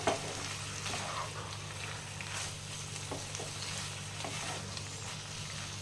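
Okra in a mustard and poppy seed sauce bubbles in a pan with a little added water, making a continuous soft sizzle with faint stirring underneath.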